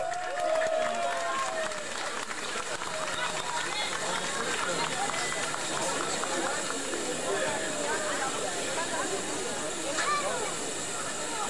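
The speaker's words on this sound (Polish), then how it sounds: "Norwed, wielkie brawa!" Steady applause from an audience greets a gold record award at a Proskauer Echo anniversary event, sustained hissing claps at moderate distance with voices and crowd noise mixed in throughout.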